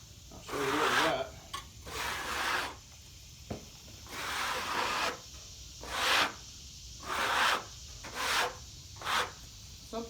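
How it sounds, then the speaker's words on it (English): Sawdust being scraped off freshly sawn lumber from a Woodmizer LT15 Wide sawmill, heard as a series of separate rasping strokes about a second apart, close and moderately loud, with short quiet gaps between them. "Something about scraping that sawdust off and revealing what's underneath."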